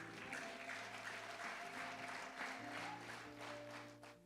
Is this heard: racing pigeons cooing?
no